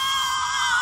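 A person screams, a sustained high-pitched shriek that stays loud and steady for about a second, close and alone with no talk.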